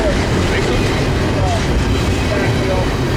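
A freight train passes at a railfanning spot in Fullerton, a steady loud rumble with faint wheel squeals throughout and no break.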